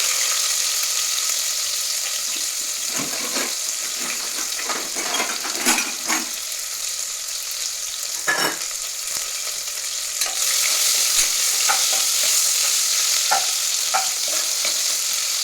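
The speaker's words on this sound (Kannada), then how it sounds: "ಇದು ಸಣ್ಣ ಮಾಡಿ ಫ್ರೈ ಮಾಡಬೇಕು." Onions and curry leaves fry in a pan with a steady, bright sizzle and occasional stirring scrapes and clinks, close and continuous without any talk.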